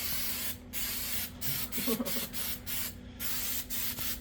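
Repeated hissing bursts from a spray can of rubberized undercoating on a 1951 Chevy Styleline trunk, several short sprays with brief pauses between them, close and fairly loud.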